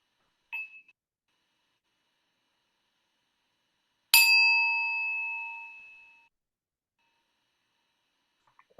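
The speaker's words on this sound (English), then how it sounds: "It will be difficult for me to make a bell sound." A meditation bell struck once to close an online sangha session, a single clear ring sustaining and slowly fading over about two seconds, with a faint tap before it and near silence around.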